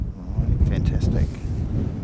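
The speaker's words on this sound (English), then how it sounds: "Wow, certainly is windy." Strong wind buffeting an outdoor microphone at an aircraft-watching mound, a low rumbling roar that gusts throughout, with a voice briefly audible over it.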